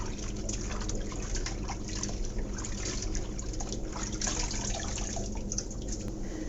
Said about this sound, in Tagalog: Medyo hugasan lang natin maigi kasi na-stuck sa lamig.